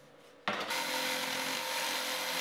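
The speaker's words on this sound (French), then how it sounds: "Tu marques le dernier morceau de lame de la rangée butant contre le cadre et tu le scies." A laminate floor plank is cut with a fine saw, the cut starting abruptly after a short quiet lead-in and then going on as a steady, close rasping whir with no talking.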